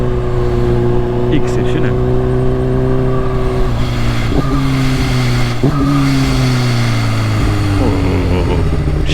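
Kawasaki H2 motorcycle with a full exhaust system revving loud and close, rising and falling through gears with pops and crackles between pulls, while someone talks over it.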